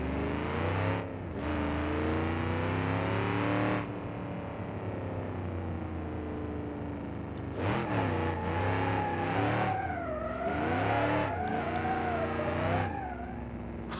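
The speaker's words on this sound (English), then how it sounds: "it actually kind of drifted" Game car in BeamNG.drive revving and drifting, engine tones climbing and falling through gear changes with whining, wavering pitch as the car slides, fairly loud and close.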